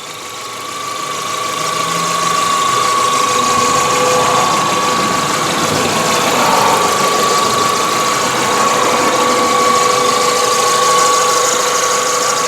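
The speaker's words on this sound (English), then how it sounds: "it's just a really, really nice running car" A 2001 Volkswagen Jetta's engine idles steadily under an open hood, a continuous mid-pitched hum with a faint whine, heard up close and alone for several seconds.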